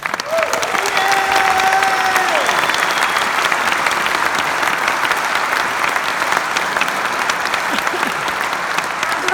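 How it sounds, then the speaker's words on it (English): A large crowd at a Marillion fan event in Lisbon applauds loudly and continuously for raffle winners, with faint scattered cheers mixed into the sustained clapping. "Round of applause for our raffle winners."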